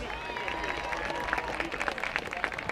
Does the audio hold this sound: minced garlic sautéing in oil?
no